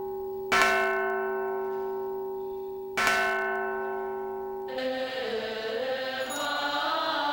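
A large temple bell in a vast monastery dining hall in Kaohsiung, Taiwan, struck twice to signal breakfast, each deep resonant toll ringing out and slowly decaying, followed by a softer, busier shimmer of higher bell tones.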